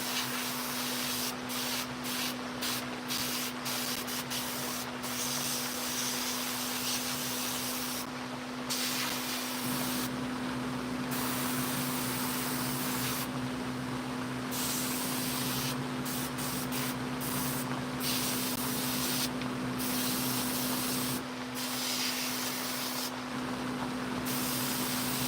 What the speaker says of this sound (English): So airbrushing a piece like this, guys, this is where you can really take this piece right.